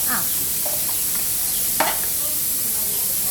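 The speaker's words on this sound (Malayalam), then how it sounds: "അപ്പോൾ സബോള അങ്ങ് ഇടുക" Thinly sliced onions frying in a pan with a constant loud sizzle and hiss, broken by a few scraping stirs, close up and without talk.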